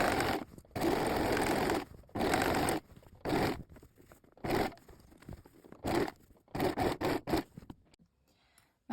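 A domestic sewing machine topstitches a fabric wrap skirt 5 mm from a previous seam, running in several short bursts of steady whirring stitching separated by brief pauses, close and alone.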